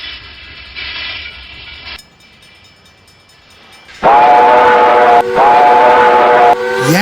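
A steam locomotive's shrill whistle sounds, then quiets, then a loud sustained multi-tone steam whistle blasts twice with brief breaks.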